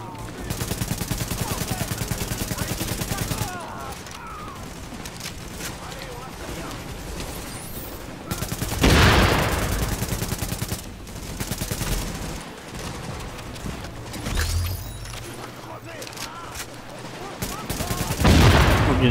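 Explosive-bullet gunfire rattles through a firefight in the video game The Division, with loud bursts of rapid shots and heavy impacts broken by quieter gaps, while voices talk over the action.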